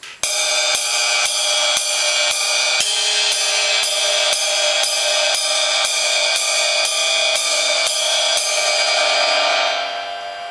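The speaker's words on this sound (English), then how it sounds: "So we want to start out with just playing quarter notes and really setting the groove with quarter notes on the ride" A ride cymbal is struck in steady swing-time quarter notes, about fifteen evenly spaced pings over a shimmering wash that fades after the last hit, played alone.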